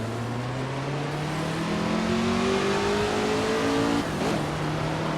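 A race car accelerating out of a slow corner at Le Mans in a racing video game, its engine note climbing steadily and loud, with a brief shift around four seconds before rising again.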